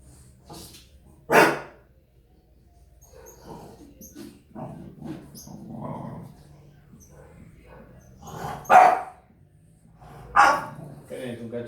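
A dog barks in the background of a physics lecture, giving sharp loud barks spaced several seconds apart, with someone talking between and over them.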